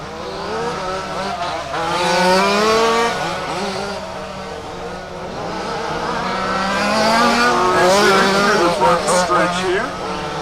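Race car at Warm Springs during a RAMS WCC event, engine revs swelling and fading as cars pass by, heard under a commentator's talk.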